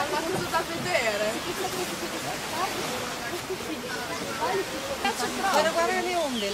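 The roar of sea waves from the 2004 tsunami forms a constant broadband wash beneath the voices of several people talking excitedly close by throughout.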